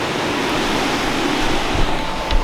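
A constant rushing wash of flowing water, loud and close, with no voices over it.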